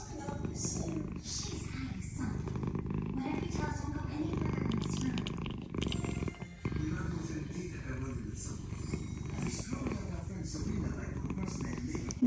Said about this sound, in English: He's purring this morning.